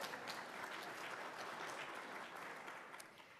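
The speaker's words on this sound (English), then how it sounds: "You know, you can just clap, it's okay." A church congregation claps together during a worship service, a steady, dense patter of many hands that sounds fairly distant and quiet and continues unbroken without speech.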